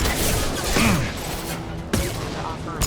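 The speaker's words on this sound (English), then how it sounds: "Firing a high impact shot." A high-impact weapon shot fires in Mass Effect 2: sharp, punchy reports with a hard crack near the middle and another at the end, over game ambience and a faint voice.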